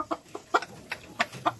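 A Shamo chicken with a cold gives a series of short, soft clucks, about six quick, faint calls in a quiet setting.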